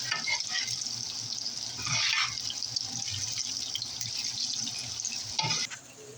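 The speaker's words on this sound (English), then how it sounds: "here we have our artichokes that cooked in the oil and the flour and the egg batter" Artichokes coated in flour and egg batter fry in hot oil, giving a steady bright sizzle with occasional louder splattering bursts and faint clinks, with no talking.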